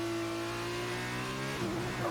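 An F2 race car engine from the F1 2019 video game revs steadily at high pitch, a sustained buzzing drone that rises slightly toward the end, loud and close with no talk.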